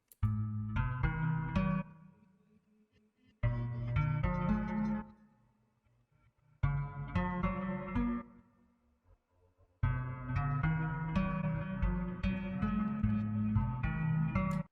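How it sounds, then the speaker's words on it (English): A guitar sample is pitched down nearly an octave and run through a Guitar Rig effect, giving low, dark phrases in four separate bursts split by short gaps, each full of ringing notes with echo tails. "After that, I bounce it out and pitch it down nearly an octave"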